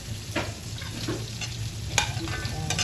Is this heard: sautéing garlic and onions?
yes